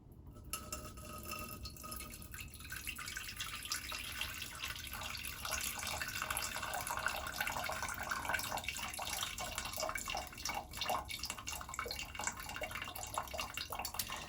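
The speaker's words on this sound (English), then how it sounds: "we need to slide the tea for 3 to 4 times, like this" Hong Kong style milk tea is poured back and forth between vessels, a steady splashing liquid stream that rushes continuously throughout at moderate, close range with no talk.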